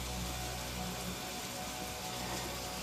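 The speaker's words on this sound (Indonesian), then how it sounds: "Terlihat di luar hujan mendadak turun lebih deras." Heavy rain suddenly pours down outside, producing a steady, dense hiss of falling water that stays even and continuous throughout, with no voices over it.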